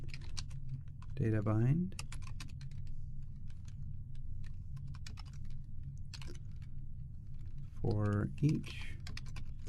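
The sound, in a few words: typing code on a computer keyboard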